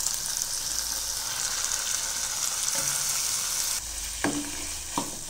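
Chicken pieces fry in a pan with softened onion and tomato, making a continuous close sizzle and crackle, followed by a few sharp clinks of a utensil against the pan near the end.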